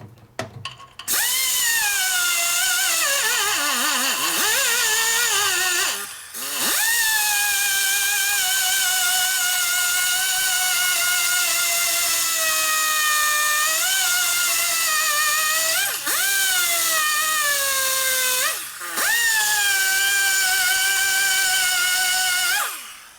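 Power grinder working a Harley panhead race motor part, a loud, steady high whine held for long stretches, with brief dips where the tool slows under load or the part is repositioned.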